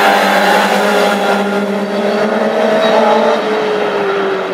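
Classic hot rod race cars racing in Tipperary, a loud sustained engine roar with steady droning tones holding close throughout, no talk heard.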